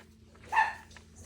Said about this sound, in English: I didn't know what my puppies are barking about